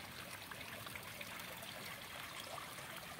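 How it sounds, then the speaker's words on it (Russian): Hydrogen sulfide mineral spring water at the Matsesta sanatorium source, flowing in a steady, soft trickling stream with no voices, a continuous gentle burble heard close. "Здесь находится вот именно эта сероводородная целебная вода"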